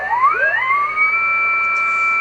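A steady CW carrier tone from a signal generator received on a Kenwood TS430S ham radio through its wide filter, a loud pure whistle that sweeps upward while tuning, then holds at a constant high pitch.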